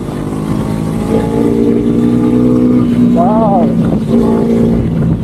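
A Bajaj NS400z motorcycle engine pulls hard and loud, its drone climbing steadily in pitch with a sharp rising rev around the middle, close and continuous with no gaps.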